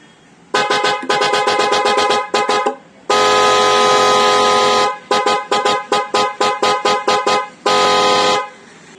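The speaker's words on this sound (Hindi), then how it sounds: "आवाज़ बहुत अच्छी है, स्कोडा वगैरह में आते हैं हॉर्न जो है।" Single-tone car horn of the kind fitted in Skoda cars, sounded close and loud in rapid repeated toots, broken by one long sustained blast and a final short blast.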